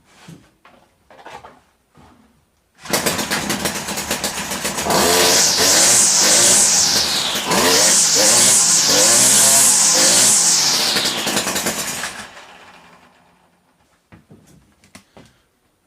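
A Stihl T27 string trimmer's small two-stroke engine, which bogs, starts up and runs loud and close, revving up and down in several surges for about nine seconds before cutting off.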